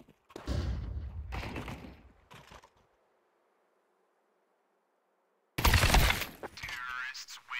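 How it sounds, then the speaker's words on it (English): Flashbang grenade going off in Counter-Strike 2, a loud blast with a crack and muffled thuds, then a quiet ringing tone for a few seconds before another heavy burst of noise. "Flashbang."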